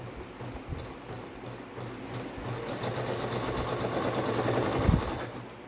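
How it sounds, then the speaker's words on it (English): Close up, a sewing machine runs a zigzag stitch on blouse fabric, a steady, rapid mechanical chatter that builds slightly before stopping near the end. "we're going to put under the machine now and do a zigzag stitch"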